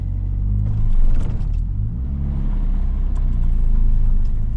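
A Ford Escort MK3 RS Turbo fitted with a race clutch is driven along, its engine rumbling low and close, with a brief rise in revs and then a steady drone.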